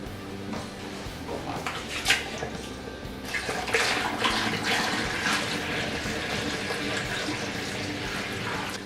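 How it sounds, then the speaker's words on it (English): Water pours into a carboy holding wort for homebrewed beer, a steady splashing, filling rush with a few brief bursts near the start, moderately quiet and continuous. "We're going to add the rest of the 3 gallons of water that we need."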